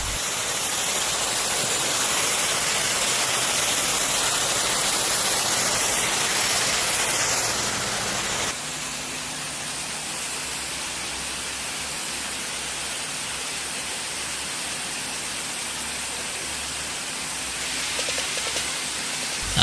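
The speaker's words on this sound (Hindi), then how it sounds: "चलो अब शावर में थोड़ी मस्ती मारी जाए" Shower water spraying on cows from a machine: a steady, loud hiss of rushing spray that drops slightly in level partway through and then continues evenly.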